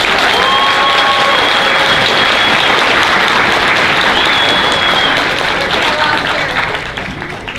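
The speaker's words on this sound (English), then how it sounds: "can we have a round of applause for EAI?" A crowd at the San Japan 2017 anime convention closing ceremony in San Antonio breaks into loud, sustained applause, with a few whistles rising above the clapping before it begins to thin out.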